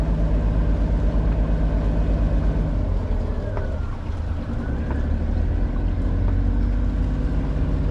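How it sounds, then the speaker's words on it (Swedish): A boat engine runs steadily with a droning low rumble and a faint whining tone above it, the sound of a propeller shaft support bearing starting to fail, close and continuous without speech. "Det låter som att det är någon lager som är på väg ge sig. Kanske stödlagret i propelleraxeln."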